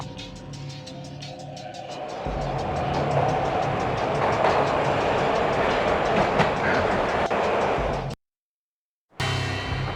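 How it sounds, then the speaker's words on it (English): A train ride in the Max Payne game on PS2: steady rumbling wheels and clattering rail noise build up after a quieter start, with a rhythmic clickety-clack and a brief dropout before the rumble resumes. "This was my second train ride of the night."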